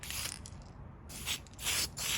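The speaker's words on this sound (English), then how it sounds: "So we're gonna be spraying a quick little mist of this" Spray can misting PS1 white paint onto a Lexan RC body in a few short hissing bursts separated by brief pauses, close to the microphone with no talking.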